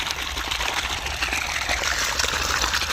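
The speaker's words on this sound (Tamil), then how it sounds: "2 இன்ச் தண்ணி நல்ல ப்ரெஷரில் வந்துட்டு ஃப்ரெண்ட்ஸ்." Water gushes under strong pressure from the 2-inch outlet pipe of a solar-powered pump, a steady, loud, close rushing splash that holds unbroken throughout with no voices.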